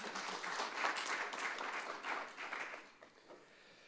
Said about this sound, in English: A round of applause for you again.